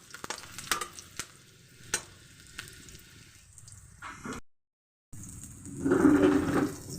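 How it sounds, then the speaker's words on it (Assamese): Whole garlic cloves sizzle in hot oil in a wok, with scattered sharp clicks of a spatula stirring, a brief silent gap, then a louder, fuller burst of frying; no voices. "তেলখিনি প্ৰায় গৰম হৈছে, তাত মই গোটা নহৰু কেইটামান পেলাই দিছোঁ।"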